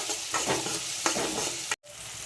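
Carrots for carrot rice sauté in a hot pan, a close, steady sizzle with a few stirring scrapes before the sound cuts off abruptly near the end.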